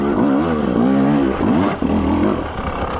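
A 2019 Husqvarna TE300i two-stroke dirt bike revs and pulls away off-road, its engine note rising and falling in quick surges, loud and close, with no talking.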